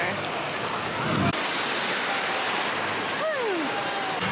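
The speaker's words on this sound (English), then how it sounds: "They have these water sprayers on the path, I'm guessing, so it's not super hot on your feet." Water sprayers hiss steadily along a water park path at Typhoon Lagoon, a broad, even spray close by, with a brief thump early on and a faint falling whistle near the end.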